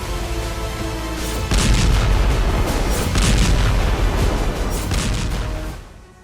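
Gunfire and heavy booms from the Zaporizhzhia front of the Russia-Ukraine war form a dense, continuous roar of shots and blasts, loud and close, fading out at the end.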